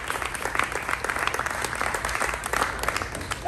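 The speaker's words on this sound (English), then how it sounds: "Clap your hands for Jesus." Children clap their hands along to a church circle-time song, a busy, continuous patter of many small hands at close range with no singing or talk over it.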